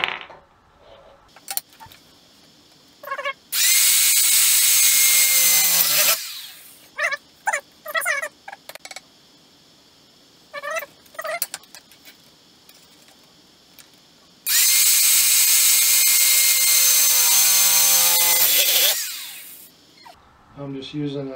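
A power drill bores two holes for valve stems in a DIY smoke machine for finding vacuum leaks, two loud sustained whining bursts of a few seconds each, with clicks and handling noises between them.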